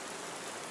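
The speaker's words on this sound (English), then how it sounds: "The rain was also picking up" Steady rain from an approaching night storm falls outdoors as a dense, even wash of noise, constant and fairly faint, with no voices.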